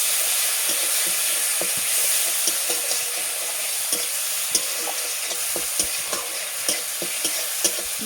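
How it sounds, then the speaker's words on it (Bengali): Onion paste fries in a pan with a steady, close sizzle, while a spoon scrapes and stirs through it in repeated soft clicks for about eight seconds, with no talking. "পেঁয়াজ বাটাটা ভালোভাবে ভেজে নেব"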